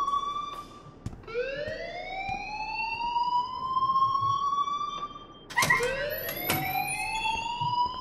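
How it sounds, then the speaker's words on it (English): A wailing electronic alarm in a video game sweeps upward in pitch and holds a steady tone, cuts out briefly, then restarts with a sharp burst and rises again, loud and continuous throughout. "please turn off that alarm since that's your job"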